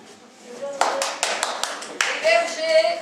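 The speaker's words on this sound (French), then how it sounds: "Applaudissez les bergers." A handful of people clap in brief separate bursts to applaud the shepherds at an evening event, close and uneven, with voices talking and calling out over the claps.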